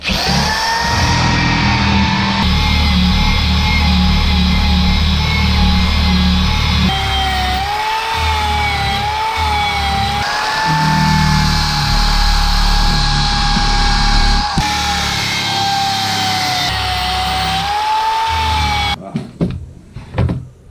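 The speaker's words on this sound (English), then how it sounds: "handy dandy DeWalt, and on it I got a wire wheel on the end" A DeWalt drill fitted with a wire wheel scrapes wood grain on rustic accent wall boards, a loud continuous whine and rough scratching that shifts in pitch, then stops near the end.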